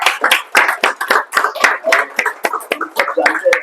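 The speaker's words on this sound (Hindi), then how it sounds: "दोस्तों इनके लिए एक बार जोरदार तालियां बजाएं" Audience at a meditation talk claps for a speaker, a loud, close patter of separate hand claps in an uneven, lively rhythm that thins slightly toward the end.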